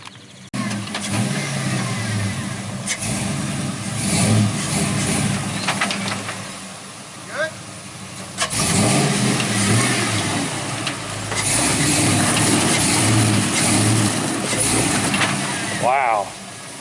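A square body truck's engine revs and labors while rock crawling off road, rising and falling in loud surges with people talking over it throughout.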